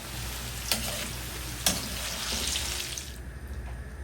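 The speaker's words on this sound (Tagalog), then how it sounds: "Magpiprito po muna tayo ng patatas at carrot." Potato and carrot cubes fry in oil with a steady, close hiss that continues throughout, broken by two sharp clicks and softening near the end.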